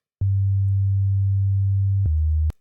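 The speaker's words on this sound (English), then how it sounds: "we have a sine wave that looks like this." A pure, smooth synth tone sustains a low pitch, drops slightly near the end, then stops with a faint click.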